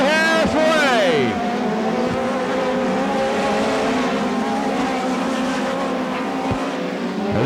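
A USAC midget race car coming around a dirt track in Kansas City, its engine whining up and fading as it passes close by, followed by a sustained engine drone; a commentator talks over the sound.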